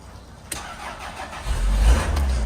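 A Toyota RAV4 engine cranks and catches after sitting neglected, a short starter whir followed by the motor firing into a rising, steady idle, close by and without talk.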